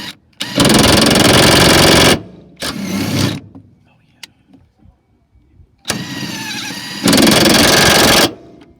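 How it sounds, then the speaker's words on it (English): An impact wrench fitted with a Tekton 1/2-inch Torx impact socket zips car seat Torx bolts loose: two long, loud, steady hammering bursts with a shorter one between, then quiet handling noises before a final two-part burst. "But the impact wrench with the Tekton impact"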